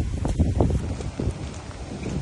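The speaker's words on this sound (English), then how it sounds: "You hear that wind?" Gusty wind blows during a January storm, a steady moderate whoosh with rustling and faint patter like rain, fairly close and without speech.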